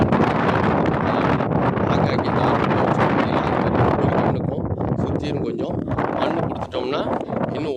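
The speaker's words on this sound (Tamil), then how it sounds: "நல்லா காற்று ஆடிட்டு இருந்தாலும்" Steady, loud wind buffeting the microphone over a farm field in summer, a continuous roaring rush with gusting texture throughout.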